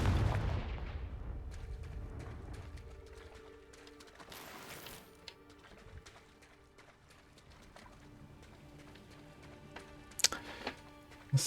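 Confringo fire spells in the Hogwarts Legacy video game burst with a heavy booming blast at the start, then a rumbling tail fading under ambient game sound, and sharper cracking impacts near the end.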